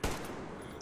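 Gunfire in the video game Metro Exodus opens with one sharp, heavy shot, followed by a dense rumbling wash of gunfire and combat noise that stays loud across the short moment.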